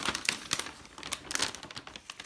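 A plastic bag crinkles and rustles in quick irregular bursts as it is pulled off a potted orchid, close and fairly soft, with no talking.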